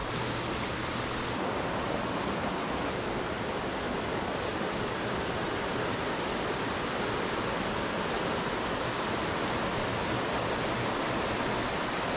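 Steady rushing flow of the Tapuakan River in Pugo, La Union, a broad continuous hiss of water close by that stays even and unbroken, with no voices over it.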